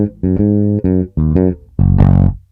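Bass guitar plays the closing two bars of the soli: a quick run of five punchy, sustained notes with short gaps, the last one ringing brightest, played solo and close.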